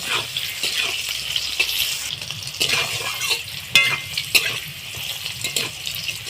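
Potato pieces frying in hot oil in a pan for a spicy potato dish, giving a steady close sizzle with scattered crackles and occasional clinks of a spatula stirring.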